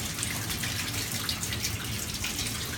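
Water runs steadily as soil is backwashed through sieves for nematode extraction, a continuous splashing, gushing flow close by with no pauses.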